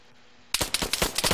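A rapid burst of gunfire erupts in Arma 3 Altis Life roleplay after a moment of near silence, with sharp, closely spaced shots rattling off like a machine gun.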